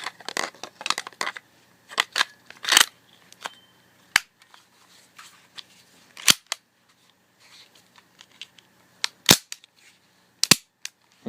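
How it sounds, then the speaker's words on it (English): Ruger Mark III 22/45 pistol being dry fired and handled, sharp isolated metallic clicks and snaps scattered irregularly across quiet gaps, close and crisp. "Dry fired good."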